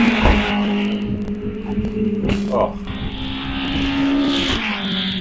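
A race car at Castle Combe Circuit, the class-leading entry in a sprint meeting, roars past with a loud engine note that swells and fades, joined by a brief exclamation from a commentator.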